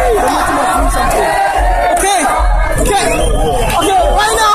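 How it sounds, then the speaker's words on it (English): Huge crowd of protesting university students marching toward a police station outdoors, a dense roar of chanting, shouting and overlapping voices, loud and continuous, with a nearby voice speaking over it. "there's such a huge crowd, you know, going all the way to the police station where the memorandum is going to be handed"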